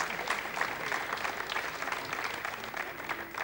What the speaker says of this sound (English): General applause throughout the Jupiter control room here.